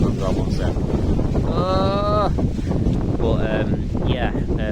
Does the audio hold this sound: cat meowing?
no